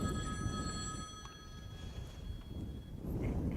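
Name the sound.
telephone ringing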